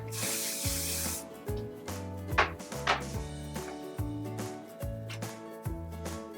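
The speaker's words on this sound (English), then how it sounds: "I'm going to spray her hair down to get better grip." A spray bottle mists a head of hair being prepared for a Dutch braid, giving two short, close hissing bursts over steady background music.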